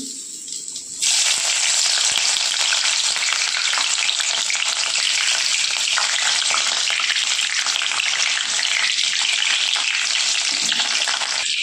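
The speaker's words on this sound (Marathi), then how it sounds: "आपण शिमला मिरची तेलामधून फ्राय करून घेऊ" Capsicum drops into hot oil and erupts into a loud, continuous crackling sizzle close up, with stirring, lasting over ten seconds without speech.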